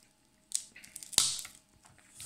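A 5D glass screen protector on a phone cracks under pressure, giving a sharp crunching snap preceded by a smaller crackle, close and fairly quiet, with no talk.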